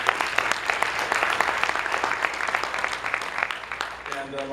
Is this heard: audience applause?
yes